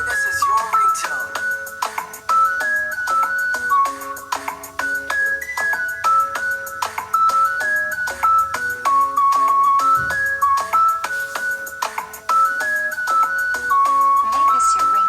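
A bright, melodic electronic ringtone version of the song "Shape of You" plays loud and steady, with plucked synth notes repeating a looping tune over a soft beat.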